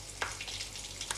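Duck and pumpkin curry fries in a pan with turmeric while a small spoon stirs it, a steady soft sizzle broken by two brief scraping stirs, close and alone.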